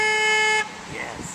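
A single sustained car horn blast sounds close by, then cuts off into background noise with people talking, at a roadside honk count in North Dakota.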